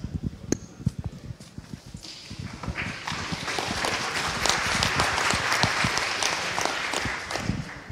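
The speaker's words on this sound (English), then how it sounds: "Thank you for this wonderful applause." Conference audience applauding a speaker's introduction, scattered claps at first swelling into dense, sustained clapping from a large hall.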